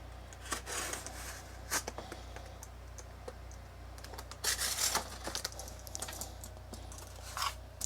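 A blade slicing through plastic packaging around a vinyl record, with irregular close scratching and crinkling bursts, some longer tearing strokes, faint and without speech.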